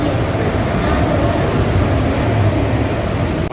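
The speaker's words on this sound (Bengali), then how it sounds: "এখন ট্রেন চলে এলো" A train pulls into a station in the rain, a loud steady rumble of wheels and carriages rolling close by, continuous throughout with a faint voice in the background.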